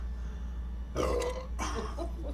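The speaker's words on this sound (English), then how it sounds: "burp." A single close burp from a man during a casual talk show conversation, two short guttural bursts separated by a brief pause, rising above a low background hum.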